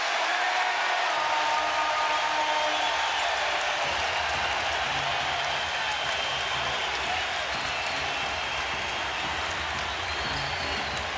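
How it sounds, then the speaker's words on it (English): A dense basketball arena crowd at the 2003 NBA Finals between the San Antonio Spurs and New Jersey Nets roars continuously and loudly, with a commentator's voice underneath. "Crowd into it, surging toward the court."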